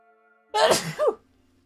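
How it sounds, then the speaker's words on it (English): A single close, loud sneeze, a sharp sudden burst with a short trailing breath after it, surrounded by quiet. "Yes, sneezed."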